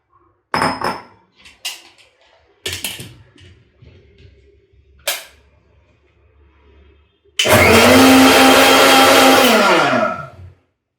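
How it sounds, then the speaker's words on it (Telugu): A mixer grinder jar blends mango puree in a loud, steady whir lasting about three seconds before it spins down, after a few brief clunks and knocks of the jar being set in place. "జార్లో ఇలా మ్యాంగో ప్యూరీ వేసుకుని ఒకసారి గ్రైండ్ చేసుకోవాలి."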